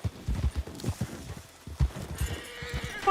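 Horse hooves clip-clop in a rhythmic series from a horse in the Western video game Red Dead Redemption, with a whinny near the end, close and fairly loud over faint background noise.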